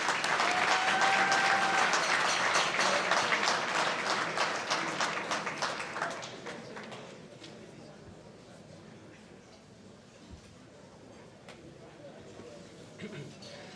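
Audience at a CIBPA Mending Broken Hearts charity gala breaks into applause for a local MP, the clapping loud and dense at first, then thinning and fading away over several seconds.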